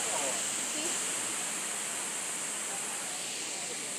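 Abbey Falls waterfall in Coorg, a steady broadband roar of rushing water that stays loud and even throughout, with no clear voices over it.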